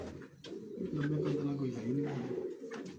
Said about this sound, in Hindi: ये आपने नहीं देखा कबूतर